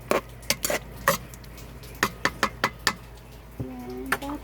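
A spoon stirs soup in a metal pot, sharp clinks and scrapes in an irregular run of about a dozen strikes, close and clear, with a brief voice near the end.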